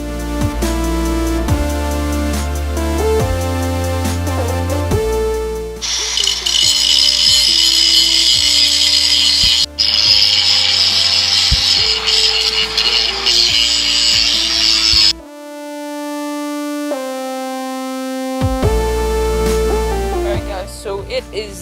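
Angle grinder biting into a live axle flange during an axle swap, a loud harsh whine sustained for several seconds at a time, broken by pauses and short tonal bursts of shop noise.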